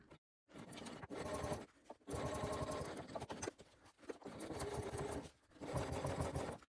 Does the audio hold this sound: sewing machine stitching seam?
yes